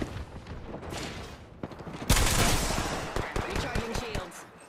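L-STAR energy weapon fire in a video game, rapid close bursts and clattering shots building to a loud dense volley, with game effects throughout.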